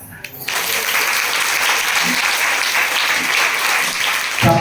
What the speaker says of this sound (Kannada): ನಾನು ಬರೋ ತುಂಬಾ ಜೋರಾಗಿ ಚಪ್ಪಾಳೆ ತರ್ತೀವಿ.